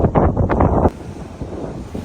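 Strong gusts buffet the microphone at a beach on Rhodes with loud, rumbling wind noise that eases after a second into a steadier breezy roar, with surf faintly underneath.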